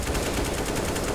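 Rapid gunfire from Counter-Strike: Global Offensive during a competitive match, a steady dense burst of shots filling the clip at moderate level with no talk.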